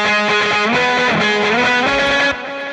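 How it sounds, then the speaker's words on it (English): A driven electric guitar through a Vox amp sound plays a sustained, distorted solo line with bending notes, loud and close, with no talking. "Now let's get to, I have a solo guitar part."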